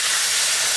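Water poured onto hot frying masala for an aloo pulao and mutton dish sets off a loud, dense, unbroken hiss of steam that fills the whole moment at close range.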